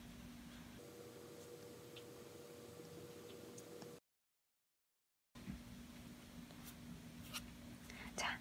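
Faint, soft scratching of a stylus writing a signature on a tablet in Procreate, quiet and close, with a brief stretch of total silence midway.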